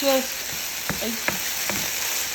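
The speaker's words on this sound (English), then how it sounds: "we would finish them off in the skillet like this right here" Collard greens sauteing in a skillet, a close steady sizzle with a few sharp clinks and scrapes from stirring scattered through it, and no talking.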